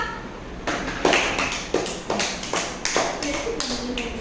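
Applause for a second-prize painting winner at a summer camp prize-giving, a burst of hand clapping with uneven sharp claps, close and moderately loud, with voices talking over it.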